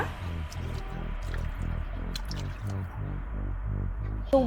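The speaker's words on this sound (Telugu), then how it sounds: "ఇక్కడ నేను almost nine glasses of water వేస్తున్నాను" Roughly nine glasses of water go into basmati rice for veg biryani, a steady run of rhythmic glugging pulses from close by with no talk.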